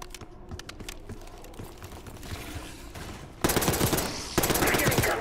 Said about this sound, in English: You're getting gunfire?